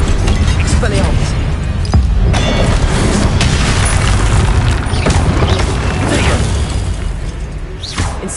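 Expelliarmus spell effect from Hogwarts Legacy gameplay: a dense, loud run of booming magical blasts and whooshing bursts, with a sharp crackle near the end, under a constant layer of game effects.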